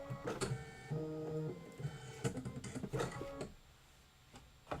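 A Kimberbell embroidery sewing machine stitches out a template, its mechanical whirring and clicking running in uneven bursts with brief pauses, close and moderately loud, with no talk.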